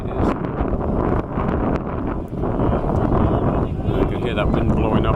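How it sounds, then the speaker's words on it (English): Wind blowing at an outdoor men's over-34 hockey match in Perth, a loud, continuous rushing buffet on the microphone with someone commentating over it throughout. "You can hear that wind blowing up here."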